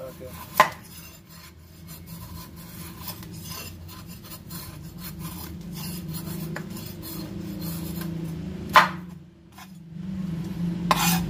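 Trimming and preparing luffa gourd in a kitchen, soft rasping scrapes of a blade over the skin with occasional sharp knocks against a board or utensil, close and fairly quiet.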